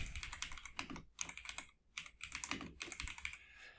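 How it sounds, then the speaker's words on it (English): Rapid typing on a computer keyboard, dense close clicks with a short pause midway, no voices. "so let's type it in"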